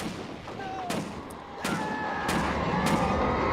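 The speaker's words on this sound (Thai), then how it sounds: "เสียงปืน" Four sharp gunshots in the video game Alan Wake Remastered ring out at uneven intervals over a steady background hum, each crack loud and brief.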